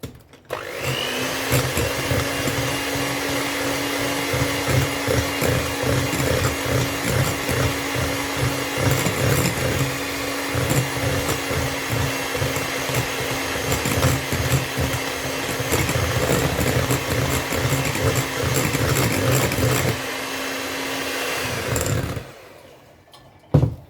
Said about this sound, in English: So that's done with our hand mixer.